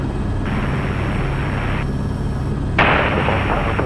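AS355 Twin Squirrel twin-engine helicopter running on the ground before takeoff, a loud steady turbine roar and rotor drone that swells noticeably louder near the end as power comes up.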